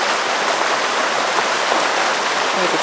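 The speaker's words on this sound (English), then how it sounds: "This is Cave Creek." Cave Creek in the Chiricahua Wilderness rushes nearby as a loud, steady wash of flowing water, continuous and broadband with no pauses or voices.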